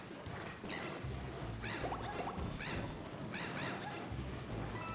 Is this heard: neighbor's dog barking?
yes